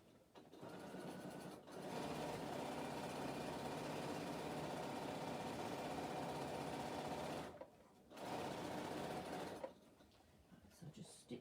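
A sewing machine runs steadily while stitching bag handles, a continuous whirring drone that pauses briefly and resumes, then stops with a few short bursts at the end.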